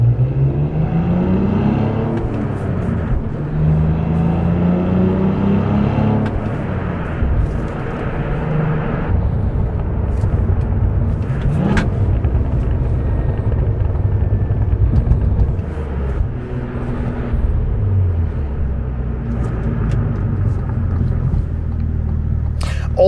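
Cadillac CT4-V Blackwing driven on the road with a manual gearbox, engine droning steadily inside the cabin and rising and falling through gear changes, with a continuous low rumble of road noise.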